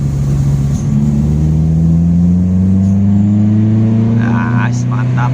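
A car with a modified dual-sound valvetronic exhaust set to racing mode runs close and loud, holding a steady, heavy engine drone that climbs slowly in pitch over several seconds.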